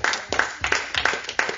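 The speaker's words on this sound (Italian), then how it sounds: "fai un forte applauso allo Spirito Santo" Rhythmic hand clapping fills a church worship service, sharp claps landing in a steady, quick beat about three per second, loud and close with a faint murmur of voices beneath.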